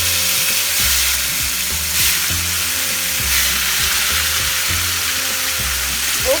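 Salmon fish pieces shallow-fry in a tablespoon of hot olive oil, giving a steady, close sizzle over a low, rhythmic mechanical hum. No one talks.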